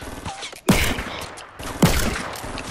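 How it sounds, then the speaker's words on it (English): Gunfire in the video game Fortnite: two loud sharp shots about a second apart, each followed by a ringing tail, with no talking in between. "Oh, I see gunshots."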